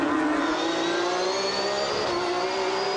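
Porsche GT3 Cup race cars on a street circuit during a sprint race, one engine holding a steady, rising high-revving note close by for the whole stretch, loud and continuous.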